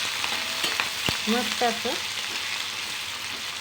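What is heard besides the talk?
frying bell pepper and onion on full flame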